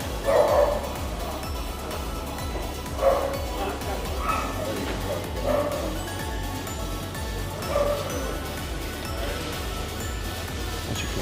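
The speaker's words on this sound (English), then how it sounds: "as soon as you walk through the door, a dog barks" A dog barks in short, separate yaps at the entrance to a farm shop, set against a steady background hum.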